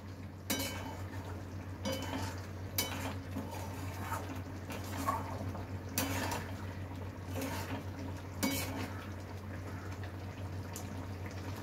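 A spatula stirs paneer and a spoonful and a half of sugar in a pan over high heat, giving soft scraping and occasional light metal clinks, quiet and steady, with no talking.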